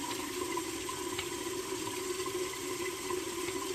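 Tap water runs steadily from a faucet into a sink while warming water for shaving, a continuous even hiss and splash close by with no talking.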